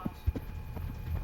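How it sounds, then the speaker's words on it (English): Galloping hooves of a deer racing toward a cattle guard, a few soft, irregular low thuds close by over a quiet background hum. "Turns out that heavy galloping was just Charlie trying to race by Mom and beat her to the cattle guard"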